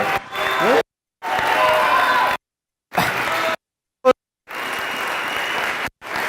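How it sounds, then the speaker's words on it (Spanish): A crowd at a Spanish-language training event breaks into loud applause with cheers and whoops in repeated bursts, separated by abrupt silent gaps, and a voice briefly shouts between them. "Fuerte aplauso."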